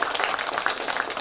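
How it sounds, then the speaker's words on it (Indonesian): An audience at an evening discussion event in Cibiru Wetan claps together, a dense, even patter of many hands at close range for a brief stretch, with no talking over it. "tepuk tangan untuk semuanya"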